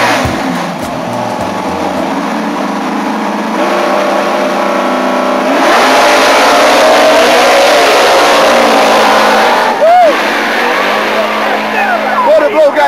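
Drag race cars, including a Chevelle, accelerate hard in a grudge race, a loud sustained engine roar building over several seconds with crowd noise and an announcer talking over it.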